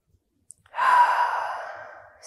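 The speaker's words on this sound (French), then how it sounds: "Une dernière respiration profonde." One long, deep exhale during a yoga session, close and soft, tapering off gradually in a quiet room.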